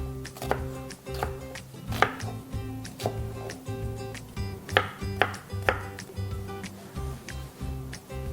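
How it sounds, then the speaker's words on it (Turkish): Steady knife chopping on a board, quick rhythmic taps of a blade cutting through bell pepper, close and clear with no talking. "Bunu da gene olabildiğince ufak doğrayacağım."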